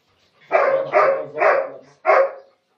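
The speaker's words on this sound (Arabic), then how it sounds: "سيزر اهوت كلب الدنوار بسم الله ما شاء الله من اقوى الكلاب اللي بتحرس مكانها" A Doberman guard dog barks four times in a close, loud burst, three quick barks followed by a short pause and a final one, with no other sound.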